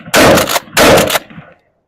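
Shotgun shells fired in a timed drill with a $400 pump or $2,000 semi-auto shotgun: two loud, close blasts roughly half a second apart, each followed by a ringing tail, then quiet.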